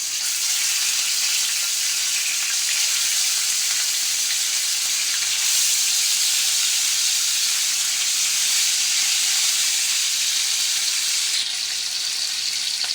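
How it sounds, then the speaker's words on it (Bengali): Rohu fish fry in a flat frying pan, giving a steady, close, bright sizzle with crackling oil that runs without a break for the whole stretch, with no talking. "এখন হচ্ছে মাছগুলো ভেজে নেব, মাছগুলো দিয়ে দেবো।"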